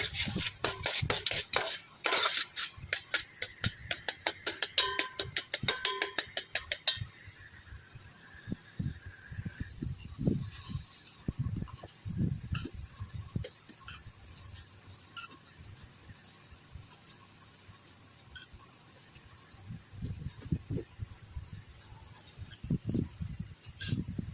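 Moong dal halwa stirred and roasted in a pan, a dense burst of rapid scraping at first, then irregular spoon scrapes and clinks against the pan continuing close by, with no talk.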